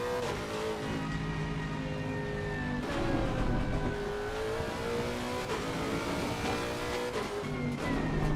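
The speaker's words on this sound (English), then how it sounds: "the sound of this car is awesome" A race car engine in the sim racing game Le Mans Ultimate drones steadily with shifting pitch as it revs up and down through gears on a downhill stretch, loud and continuous with no talking.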